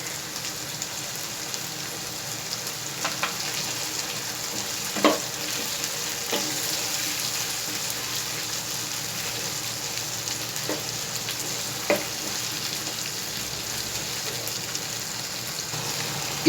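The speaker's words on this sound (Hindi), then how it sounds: "इसकी अच्छी तरह फ्राई करने के बाद इसमें हम 1 प्याली टमाटरों की ऐड कर देंगे" Capsicum and potatoes frying in a pan with tomatoes for a spicy Indian sabzi: a steady, even sizzle throughout, with a few faint clicks of a stirring spoon now and then, close and without talk.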